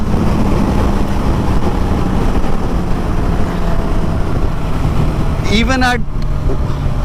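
A 2024 Suzuki Katana motorcycle at wide open throttle on a highway makes a loud, constant roar of engine and wind rush. A rider's voice breaks in briefly near the end.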